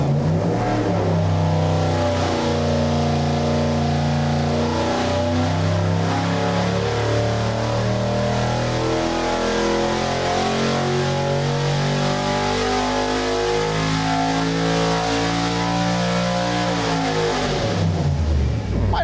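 A 6.4L Gen III HEMI V8 revs on an engine dyno, a loud, steady climb in pitch over most of the run, then an abrupt cut-off near the end, with no talk.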